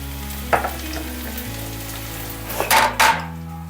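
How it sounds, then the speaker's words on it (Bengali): Onions fry in a pan for Bengali aloo dum, a low steady sizzle under a tonal hum, punctuated by a few sharp clinks and scrapes of a utensil against the pan; no speech. "পেঁয়াজটা এখন ভাজা হচ্ছে"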